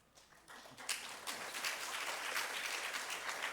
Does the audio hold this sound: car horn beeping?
no